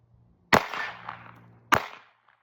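Two sharp handgun shots fired a little over a second apart, each a loud crack with a short ringing decay, close by with no talking.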